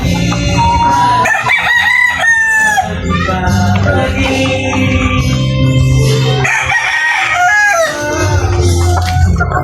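Peruvian gamefowl roosters crowing repeatedly in a backyard, loud and close, with overlapping calls and clucks throughout; someone talks intermittently over the birds.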